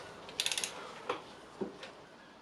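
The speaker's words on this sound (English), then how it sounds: "So just to torque them up to 19 Newton meters." Torque wrench tightening camshaft-area bolts to 19 Newton meters on a Toyota MR2, giving a quick burst of four ratchet clicks followed by a few single, separate clicks, close up and moderately quiet with no talking.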